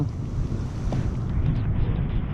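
Typhoon Goring's strong wind roars steadily into the microphone, a dense low rumble with gusty buffeting throughout and no voices.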